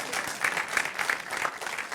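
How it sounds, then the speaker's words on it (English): A lone person clapping in a keynote audience at a sales summit, a short run of scattered, moderately loud hand claps in a roomy hall, no speech over it. "I have one person clapping."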